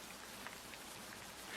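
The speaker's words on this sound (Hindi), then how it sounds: "कुछ देर बाद बारिश होना शुरू हो गई।" Steady rain falling on a village path on a cold night, a dense even hiss of drops on surfaces, soft and continuous with no voices.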